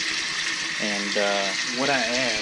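Regular tap water runs from a hose into a container used to hold live bait fish. A steady rushing flow continues throughout, with someone speaking briefly over it.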